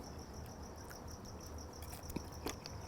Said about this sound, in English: I'm going to go inside now, away from these crickets